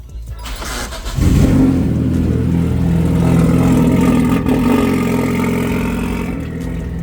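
A turbocharged front-wheel-drive Lancer with a 4G15T engine and an Evo 7 three-inch exhaust, fitted without a muffler barrel, starts and then revs loudly and steadily close by for several seconds, with no talk.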